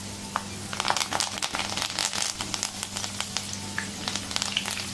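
Peanuts frying in hot oil in a kitchen pan, a steady close sizzle with small crackles and pops throughout.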